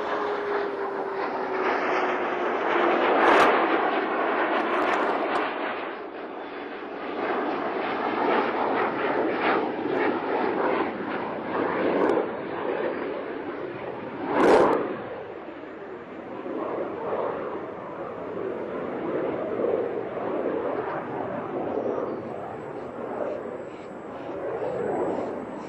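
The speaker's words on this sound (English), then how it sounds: "Discovery rolling out on runway 15 at the Kennedy Space Center" Space Shuttle Discovery rolling out on runway 15 at Kennedy Space Center after landing, a broad steady roar with a few sharp transients, and faint radio-style voices underneath.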